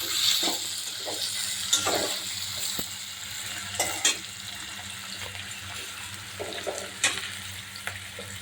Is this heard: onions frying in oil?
yes